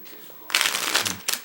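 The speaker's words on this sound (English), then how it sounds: "Don't know if you saw when I was shuffling" A deck of DMC Sharks playing cards is riffle-shuffled and bridged, giving a dense, crisp flutter of cards that runs for most of a second, then a short second burst, close and clear.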